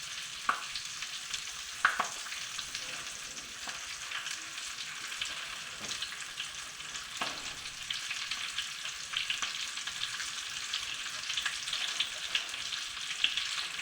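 Stuffed capsicums fry in a pan of hot oil, producing a steady hissing sizzle that swells slightly toward the end, with a few faint clicks and bumps as they are placed, no speech.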